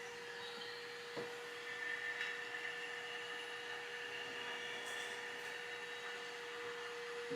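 A Milwaukee Packout vacuum sucks up screws, running as a steady, close whine with a low rushing airflow and a brief rattling click near the start.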